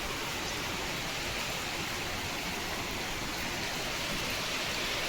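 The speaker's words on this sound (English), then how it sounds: "फिर भी बारिश जैसे हो रही है जैसे विंटर में भी बारिश ही बारिश।" Steady broadband hiss of unseasonal rain falling in India after the monsoon, continuous and even throughout with no voices.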